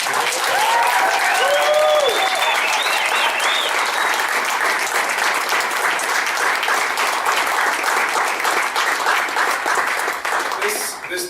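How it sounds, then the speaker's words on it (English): An audience at a veterans' arts showcase applauds loudly and steadily for the artists, dense clapping sustained throughout and tapering slightly at the end, with a few whistles early on. "Let's give one last huge round of applause for all of our artists."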